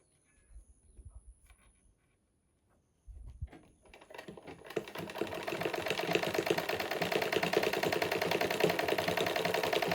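A sewing machine stitches a basic skirt, starting with a few quiet handling knocks before the motor whirs into a fast, steady, close rattle that continues to the end.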